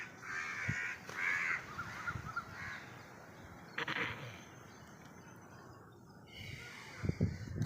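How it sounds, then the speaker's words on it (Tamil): Repeated koel calls ring out in short bursts at irregular intervals, moderately distant over a faint outdoor background. "குயில் இருந்துச்சுங்க அது கூவ ஆரம்பிச்சிருச்சு"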